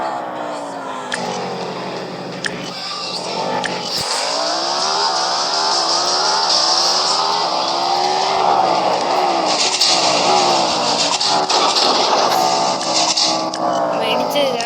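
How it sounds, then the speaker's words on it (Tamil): Cars are driven around a store room, their engines revving up and down in repeated rising and falling sweeps, with talking running over much of it. "ஸ்டோர் ரூமில் உள்ள எல்லா காரையும் ட்ரையல் போட்டு ரவுண்டு ஓட்டி போடுவாங்க கைஸ்."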